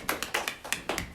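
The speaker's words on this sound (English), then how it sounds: "Give Mariah a round of applause." Applause for Mariah at a morning business talk, a few sharp distinct claps at a quick steady rhythm, sounding like only a handful of hands nearby.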